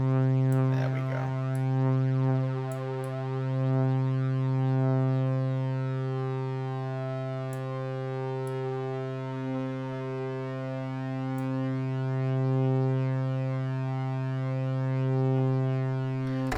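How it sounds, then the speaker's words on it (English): Buchla Easel V software synth through a flanger set with a very short delay and heavy feedback, a sustained tone with high, metallic pitches sweeping and strobing through it, steady and alone. "You get these high kind of metallic pitches that strobe through the sound."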